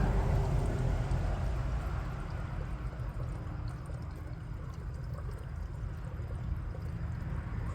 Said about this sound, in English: I'm gonna try to pour as much as water I can get.